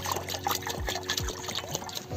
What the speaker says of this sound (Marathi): पाणी टाकून पाणी डालायचे आहे